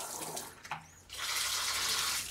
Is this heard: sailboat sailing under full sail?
no